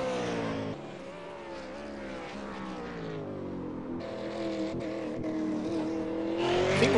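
Racing-game race car at the Zolder chicane, a V8 touring car from an online sim series, its engine note sweeping and rising as it rides over the kerbs on two wheels, loud and continuous with harmonic whine throughout.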